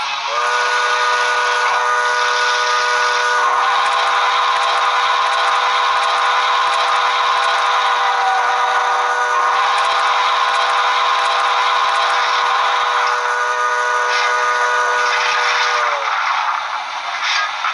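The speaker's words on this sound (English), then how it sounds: "so that was the whistle and the bell send-off" A loud, sustained whistle from a Broadway Limited Paragon 2 GTW 5629 model steam locomotive's sound system blows for many seconds, steady and chord-like, with a faint clanging bell underneath before it cuts off.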